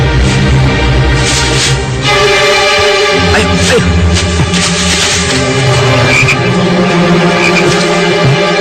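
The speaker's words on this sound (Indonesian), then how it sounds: "Kodok. Aku menembak kodok." Many frogs croaking together in a forest, loud overlapping calls in steady rhythmic pulses throughout, with no talking.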